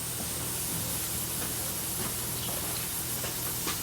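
A pressurized nitrous oxide bottle leaks in a street car, giving off a steady broadband hiss that runs loud and unbroken from start to finish, with faint clicks and rustles on top.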